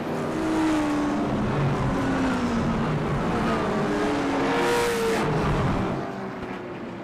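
Late model stock cars circle Irwindale Speedway under caution behind the pace car, a steady blended engine drone with rising and falling pitch as cars pass, fairly loud and continuous throughout.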